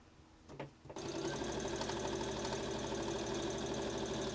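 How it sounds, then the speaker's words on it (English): A sewing machine runs steadily, stitching a narrow quarter-inch seam on a gathered skirt. A brief stop-start comes first, then a continuous close mechanical whir with fast rhythmic ticking. "I'm going to sew a 5mm or a 1/4 inch seam down here."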